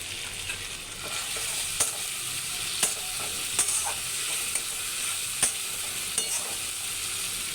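Crab being stirred in a pan with salt and ginger-garlic paste, a soft continuous sizzle broken by scattered scraping and spatula knocks at a steady, unhurried pace, with no voices.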